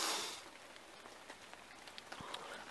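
Rain falls through winter woodland, a soft steady hiss broken by scattered close drips and patters, loudest at the very start and then settling into a quiet, even wash.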